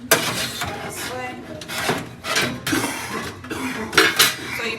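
Metal filter of an NXR range hood vent clanking and scraping as it is fitted back into place, a run of close, bright metallic knocks and rattles with a voice talking faintly underneath.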